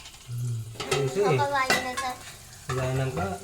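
Ginger sizzles in a pan for chicken curry while a utensil stirs and scrapes against the metal in short bursts. The frying hiss runs steadily underneath, and a voice talks over part of it.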